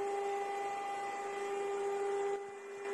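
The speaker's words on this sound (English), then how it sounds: "What I can hear now when it's moving Z axis." A SUNLU S9 Plus large-format 3D printer moving its Z axis gives a steady, fairly loud stepper-motor whine with a clear constant tone that holds throughout and dips briefly near the end.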